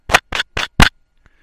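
Four rough scratching bursts on the wireless microphone of a DJI Pocket 2, evenly spaced and close, followed by a faint tiny tap.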